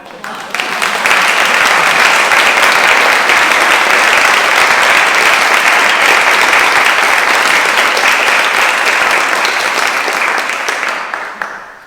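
Loud, sustained applause fills a room at a Threshold Choir 25th anniversary gathering in a San Francisco columbarium and funeral home, rising quickly and clapping densely for about ten seconds before tapering off.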